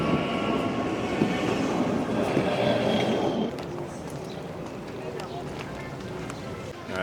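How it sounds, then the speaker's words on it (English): A train runs past on a rail line on a father-son trip around Geneva and Chamonix, a steady rumbling roar that is loud for the first half and then drops to a lower rolling noise as it moves away, with voices talking over it. "Ooh, there's a train."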